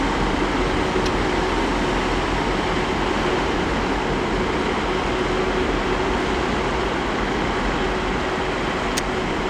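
TransPennine Express train at Leeds station, heard as a steady, loud broadband rumble and hum of the train running, continuous and unbroken throughout with no talk.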